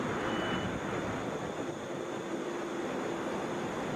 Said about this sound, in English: This is Delta 319 headed to Santa Ana, Boeing 757